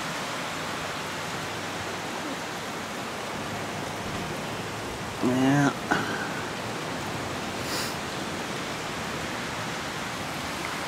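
Rain falls outdoors as a steady, even hiss throughout, with a voice briefly speaking partway through.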